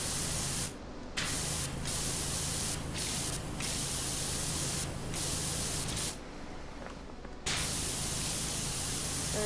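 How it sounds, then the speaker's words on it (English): Steady broadband hiss of a pressure washer spraying in the video game PowerWash Simulator, continuous and loud with several brief cutoffs where the spray stops and restarts. "I'm definitely going to have to finish this one off by spraying downwards at it from above"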